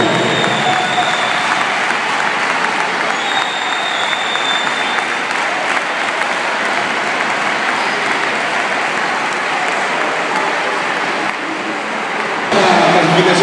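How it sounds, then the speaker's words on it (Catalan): Loud, sustained applause fills a sports hall at a Christmas mini-basketball tournament in Granollers, a dense crowd clapping continuously and evenly for the whole stretch, with a brief shift in level near the end. "Un fort aplaudiment, sisplau."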